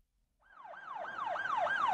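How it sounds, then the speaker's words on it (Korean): A cartoon police car siren starts after a brief silence and wails in a rapid, repeating up-and-down sweep that grows steadily louder, with no voices over it. "삐요, 삐요, 삐요. 나는 경찰차."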